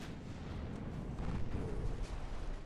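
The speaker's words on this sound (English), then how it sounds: "That was a bonk of a torpedo launch, or torpedo impact." Torpedo striking a warship in the naval game Ultimate Admiral Dreadnoughts, a faint, low rumbling boom that swells and lingers over a couple of seconds amid distant battle noise.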